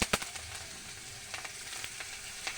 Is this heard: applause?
no